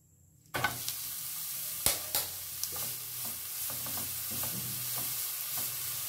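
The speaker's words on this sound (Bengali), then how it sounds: "এইভাবে সমানে নাড়িয়ে ভেজে নেব" Drained grated papaya goes into a hot pan and is stirred and fried for a papaya halwa. Silence gives way to a steady sizzle, broken by sharp scrapes and clinks of the spatula, close up, with no voices.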